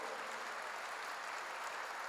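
A church congregation claps together in a steady, even wash of applause that stays faint and distant throughout, with no voices over it.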